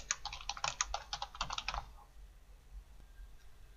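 Rapid typing on a computer keyboard, a quick run of sharp clicks for about two seconds, close and fairly quiet, then stopping into near silence.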